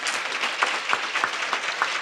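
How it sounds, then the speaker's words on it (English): Applause from the crowd at an evening volunteer awards ceremony in Memphis: a steady, dense clatter of many hands for about two seconds, with a few sharper claps standing out and no voices over it. "Give them a round of applause."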